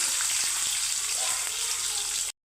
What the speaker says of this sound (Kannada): ಈರುಳ್ಳಿ ಎಲ್ಲ ಚೆನ್ನಾಗಿ ಫ್ರೈ ಆಗಿದೆ